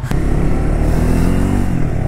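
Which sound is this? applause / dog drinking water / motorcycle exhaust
motorcycle exhaust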